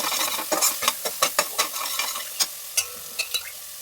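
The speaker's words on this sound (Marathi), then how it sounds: "हे सर्व टाकून झाल्यानंतर मसाला चांगल्या प्रकारे परतून घेतला आहे" Masala spices fry in hot oil with a steady sizzle while a spoon scrapes and stirs the pan in quick, irregular clinks and scrapes, close up and with no talking.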